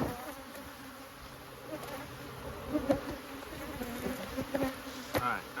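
Honeybees buzz steadily around an open hive during a yard inspection while queen cells are handled for a split, a close, continuous drone with brief louder swells and no talk.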